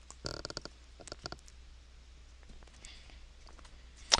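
Faint keyboard typing during an online teaching session: quiet clusters of quick key clicks in short bursts, then a sparse tap or two and a sharper click at the end.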